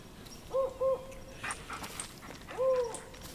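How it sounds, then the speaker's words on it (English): Owls hooting at night in the Blair Witch video game, a few soft tonal hoots in two short pairs and then a longer one, over quiet ambience with faint rustles. "Now we're hearing owls."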